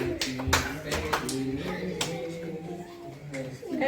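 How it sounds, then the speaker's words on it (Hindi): Children at a school Friendship Day celebration clap in scattered, uneven bursts. Some sharp claps stand out from a busy background of voices and chatter. "जोर से ताली बजाओ, जोर से।"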